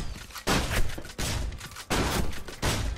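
Shotgun blasts from the video game Gotham City Impostors, four loud booming shots spaced roughly evenly apart, each followed by a short ringing tail, with no talk.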